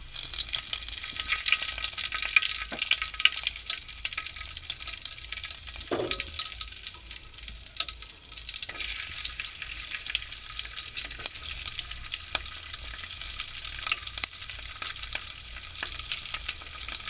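Cumin, mustard seeds and bay leaves sizzle in hot oil with a continuous crackling hiss, close and fairly loud, with a few faint clinks and stirring sounds along the way.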